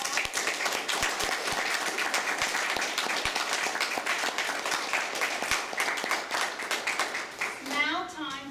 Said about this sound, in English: give all the contestants a round of applause